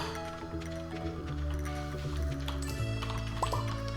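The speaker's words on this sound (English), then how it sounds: "Water Fartomo's bowl" A pet's water bowl is filled in the farming game Stardew Valley. Soft liquid pouring, gurgling and dripping play over steady background game music, with one brief splashy burst near the end.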